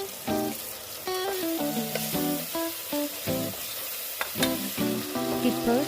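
Onions and tomato sauté in a pan, a busy sizzling and frying texture under a run of tonal, pitched background sounds that start and stop throughout.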